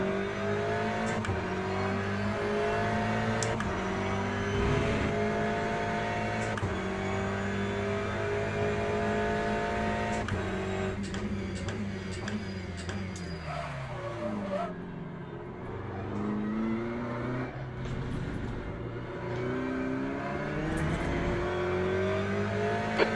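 A Ferrari race car engine roars in the Le Mans Ultimate racing game at Fuji Speedway, sustained loud droning with rising and falling revs and gear changes throughout, no speech.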